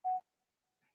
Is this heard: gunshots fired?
no